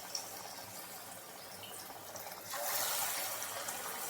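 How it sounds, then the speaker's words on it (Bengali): Chicken pieces slipped into hot oil for chili chicken, giving a soft steady sizzle that swells into a louder, fuller hiss partway through, close by with no talking. "তেল গরম হয়ে গেছে, আমি আস্তে আস্তে চিকেন পিসগুলোকে ছেড়ে দিচ্ছি এর মধ্যে।"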